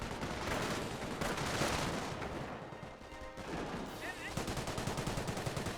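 Machine gun fire from a medium machine gun carrier in the war game Company of Heroes, rapid bursts mixed with other battle gunfire and explosions, loud and dense throughout.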